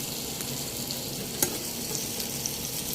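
Prawns fry lightly with onions and chillies in a pan, making a soft, even sizzle with faint stirring scrapes and one brief clack near the middle, with no talking.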